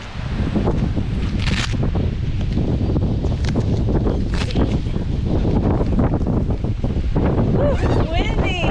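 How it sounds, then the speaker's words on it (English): Strong gusty wind buffets the microphone at a riverside camp on the Copper River, a constant loud roar with rustling bursts and a voice briefly heard underneath. "Woo, it's windy."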